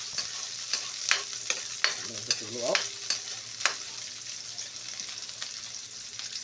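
Onions fry in a pan for a Filipino lunch dish, with a steady sizzle and repeated sharp scrapes of a spoon stirring them, the spoon clacking against the pan a few times.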